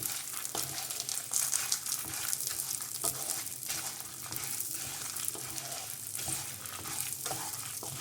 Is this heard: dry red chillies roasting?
yes